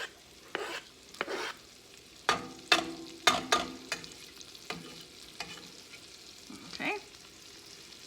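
Garlic and chicken sauté in a hot pan while being stirred, a sizzle punctuated by a string of uneven scraping and tapping strokes from the utensil; a voice briefly speaks once.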